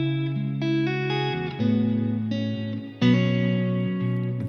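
Electric guitar notes layered into sustained, shimmering chords with reverb through a TC Electronic Ditto X4 looper, each change blending smoothly into a long reverberant ring.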